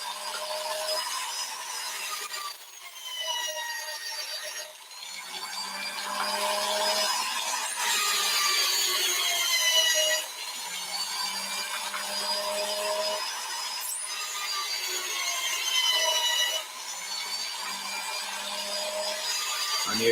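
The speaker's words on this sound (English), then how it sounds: "And you can see how quick it's removing that crimp." Power drill running a tool that removes the crimp from fired .308 brass cases, a loud continuous whirring grind with rhythmic dips every couple of seconds as each case goes through.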